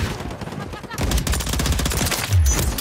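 Ram 9 submachine gun fire in Call of Duty MW3 comes as rapid automatic bursts of game gunfire, loud and close, with a quieter stretch before the shooting and a voice now and then underneath.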